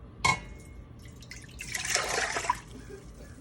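Vinegar pours steadily into a container for about a second, a soft splashing trickle close by, after a brief clink at the start.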